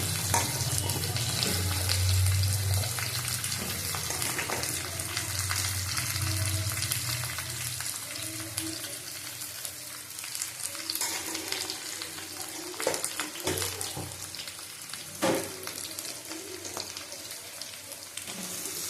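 Chunks of pumpkin sizzle and fry steadily in a pan alongside shrimp, a continuous wet hiss with occasional soft clinks and scrapes, close and fairly loud, no talking.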